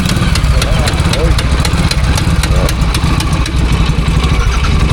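Royal Enfield J2 500 twin-exhaust-port motorcycle with a detached exhaust, engine ticking over at idle in a steady loud rhythmic chug, with people talking nearby over it.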